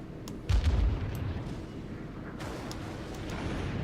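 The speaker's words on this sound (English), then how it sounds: "Although now its secondary guns can engage me." Warship secondary guns firing in the naval combat game World of Warships, a heavy low boom up front followed by a steady rumbling wash of distant gunfire and battle noise.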